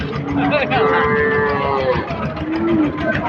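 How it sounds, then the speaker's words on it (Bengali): Cows and calves at the Chandaikona cattle market low repeatedly and close by, several overlapping moos rising and falling over a busy crowd murmur. "দেখতে পাচ্ছেন সুন্দর সুন্দর বাছুর এবং সুন্দর সুন্দর গাই সেই বিখ্যাত হাটে বিক্রি করা হয়"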